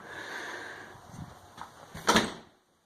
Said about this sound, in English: As we come in the front door